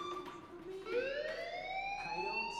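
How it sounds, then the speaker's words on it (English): A fire alarm rings in Life is Strange Remastered, a loud rising electronic siren tone that sweeps steadily upward and holds, sounding alone with no talk. "Hey, do you hear that fire alarm? That means you should be outside."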